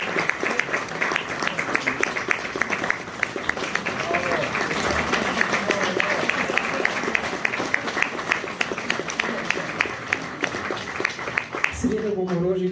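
Sustained applause from a concert audience for a choir's soloist, many hands clapping steadily in a hall for several seconds, with an emcee's voice running over it and a brief handling noise near the end.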